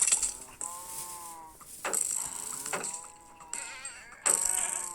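Minecraft goat bleating, several short wavering cries in separate bursts with quiet gaps between them, each cry clear and close, along with bright metallic clinks.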